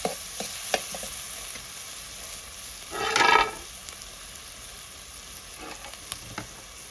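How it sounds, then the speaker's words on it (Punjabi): Turmeric and other spices roasting in a hot pan, a steady soft sizzle with one louder burst of frying and stirring midway, close and with no talk. "ਹੁਣ ਇਹਨਾਂ ਨੂੰ ਮਸਾਲਿਆਂ ਨੂੰ ਆਪਾਂ ਭੁੰਨ ਲੈਣੇ ਕਿਉਂਕਿ ਹਲਦੀ ਆਪਣੀ ਕੱਚੀ ਨਾ ਰਹੇ"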